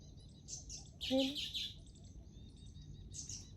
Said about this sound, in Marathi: सगळ्या पक्ष्यांचा आवाज येते